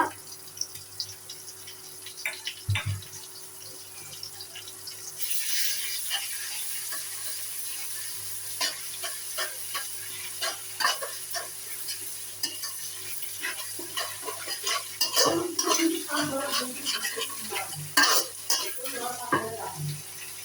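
Garlic paste and ginger paste frying in oil for chicken biryani, stirred with a utensil; close, irregular sizzling with sharp scrapes and clinks against the pot building over the whole stretch.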